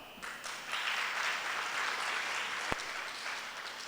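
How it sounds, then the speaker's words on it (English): A presentation audience gives a fairly quiet round of clapping that holds steady for several seconds. One sharp, louder clap stands out near the end. "Let's give Alex a better clap."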